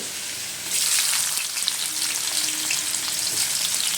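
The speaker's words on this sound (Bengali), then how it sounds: "নিয়ে আমি এটাকে পেঁয়াজ কিছুটা তেলে দিয়ে দেবো" Sliced onion sizzles in hot oil with a nigella-seed tempering. A steady, fairly loud frying hiss swells just after the start and continues without speech.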